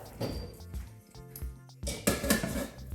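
A metal stock pot is set back down on a stovetop with a few close clanks and scrapes of metal against metal. The short clatter comes in two bursts, with no talking.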